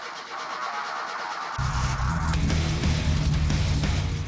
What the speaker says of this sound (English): The engine almost immediately started up and idled perfectly.